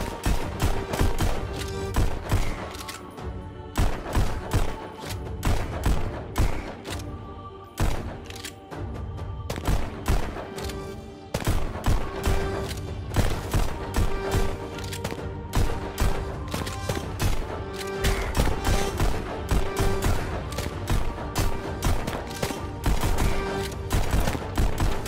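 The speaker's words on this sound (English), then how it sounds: "Spamming the bullet button." Rapid gunfire from the VR shooter game Pistol Whip, a dense, continuous stream of loud shots with booming impacts over a driving music track, steady for the whole stretch with no talking.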